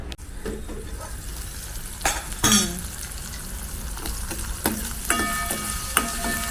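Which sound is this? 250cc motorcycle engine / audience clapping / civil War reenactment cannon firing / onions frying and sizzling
onions frying and sizzling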